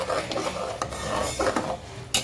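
Metal utensil clattering and scraping inside an opened pressure cooker of fresh green pea dal, several short knocks and rubbing sounds close up, with no talking.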